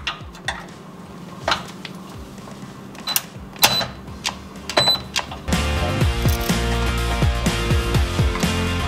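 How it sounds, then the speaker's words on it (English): A ratchet with a 12 mm socket works factory bolts loose on a 5th gen Toyota 4Runner during a Sumo Springs install, producing scattered metallic clicks and clanks that turn into a denser, louder rattling run in the second half. "removing the factory bolts using 12 millimeter on both ends"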